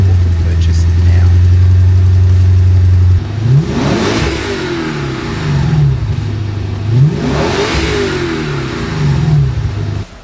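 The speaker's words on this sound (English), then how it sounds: "Powered by a 5-litre V8, which was co-developed with Yamaha, the Lexus IS-F is fast, fun, and sounds phenomenally good." A 2008 JDM Lexus IS-F with a 5-litre V8 co-developed with Yamaha idles loudly, then revs hard several times in rising and falling sweeps, close by.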